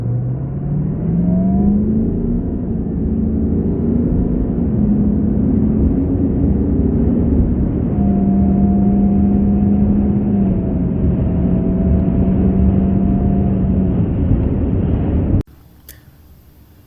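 A 6.0 Powerstroke diesel pickup fitted with a GRX7 turbo, accelerating hard on a drag run: loud, close engine roar with rising pitch sweeps through several shifts and turbo whine, which then cuts off abruptly near the end.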